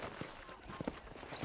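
Horse hooves clip-clopping during a ride in the video game Red Dead Redemption, a short run of distinct hoof strikes at walking pace over a soft background hum.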